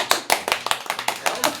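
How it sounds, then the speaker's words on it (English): A small room audience claps hands, with sharp individual claps landing in a loose, uneven rhythm close by and no voices over them. "Everybody clap your hands."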